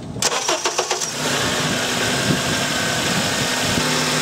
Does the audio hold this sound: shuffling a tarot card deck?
no